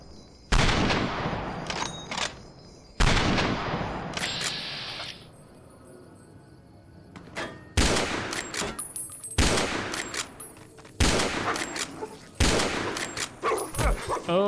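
Gunfire in Fallout New Vegas, with loud sharp shots arriving in irregular bursts and separate reports, some decaying echoes, and brief gaps between volleys.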